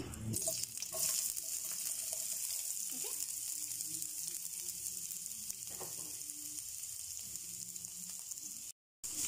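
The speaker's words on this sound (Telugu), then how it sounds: "కొద్దిగా ఆయిల్ ఉంచేసి మనం ఆనియన్స్ వేసుకుందాం" Onions sizzling and frying in a little oil in a pan while making manchurian sauce, a steady close hiss that runs throughout with faint stirring clatter and no talk.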